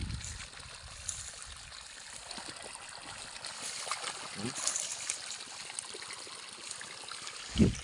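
Steady rushing of water pouring out in a continuous stream from a solar-powered pump, moderately loud, with faint voices in the background.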